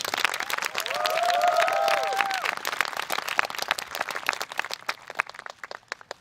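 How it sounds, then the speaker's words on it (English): A crowd at a Vernon High School, Florida graduation ceremony breaks into a round of applause, dense clapping that carries on steadily and thins toward the end, with a brief voice early on. "Students, please give them a deserving round of applause."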